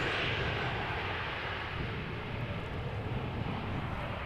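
An airliner arriving at Amsterdam Schiphol Airport in a crosswind, its engines a steady, fairly distant roar that holds evenly throughout and fades slightly toward the end.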